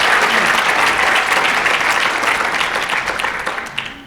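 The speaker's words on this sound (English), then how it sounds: "I think we can give each of our speakers a round of applause" An audience at a panel discussion gives the speakers a loud, close round of applause that holds steady and then thins out near the end.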